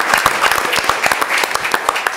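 A round of applause at a board of education meeting, steady clapping from a crowd of people sustained for a couple of seconds, moderately close and loud.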